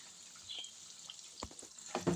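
Masala bonda fritters frying in oil on a medium flame, a steady soft sizzle broken by a few clicks and stirs toward the end.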